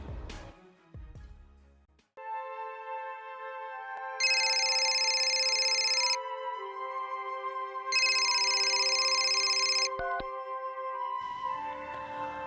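An electronic telephone ringtone plays a sustained melodic tone pattern, with two bright, loud ringing bursts, close and clear with no talk over it.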